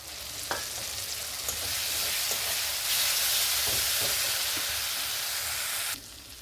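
Spice masala for an Assamese eggplant curry fries in hot oil, giving a steady, loud, close sizzle with a few faint clicks from stirring and no voices, until it cuts off abruptly near the end.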